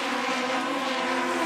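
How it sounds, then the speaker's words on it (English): Aussie Racing Cars powered by small Yamaha motorcycle engines race on the Gold Coast circuit, a dense, high-revving engine scream that stays loud and steady. "They make plenty of grunt, these little Yamaha motorcycle powered cars."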